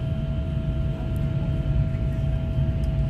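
Steady airplane cabin noise inside a Philippine Airlines jet, a constant low engine rumble and air hiss with a faint continuous hum, no talking over it.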